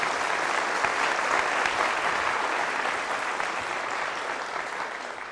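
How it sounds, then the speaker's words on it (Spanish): A church congregation at Sunday Mass applauds, a steady dense patter of many hands clapping that fades a little toward the end. "Fuerte el aplauso al Señor por la vida de ustedes mismos, mis hermanos"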